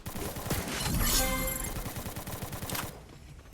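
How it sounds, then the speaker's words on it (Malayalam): Rapid bursts of gunfire crack out nearby, a dense fusillade of close shots with a rolling background rumble, loud and continuous before cutting off near the end. "ആരാടാ ഇവിടുന്ന് വെടിവെക്കുന്നു?"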